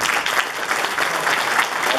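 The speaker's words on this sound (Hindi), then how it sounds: "आपकी तालियों की गड़गड़ाहट" Audience applause in a lecture hall, steady dense clapping from a crowd filling the whole stretch at even loudness with no voices over it.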